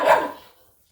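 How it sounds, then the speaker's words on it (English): A single short dog bark rings out indoors at moderate distance and fades quickly into silence. "Our daughter is barking over there"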